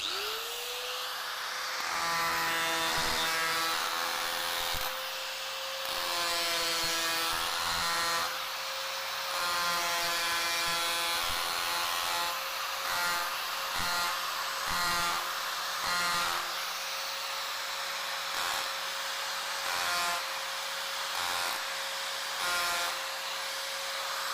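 A power carving tool cuts into timber with a steady high-pitched motor whine, close and loud, and its pitch shifts slightly as the bit bites and eases through the wood.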